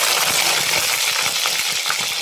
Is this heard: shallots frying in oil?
yes